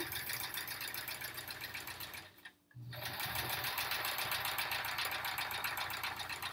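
Sewing machine stitching a string-pieced quilt block onto a paper foundation, a fast even mechanical whir close by that stops briefly for a moment, then resumes steadily.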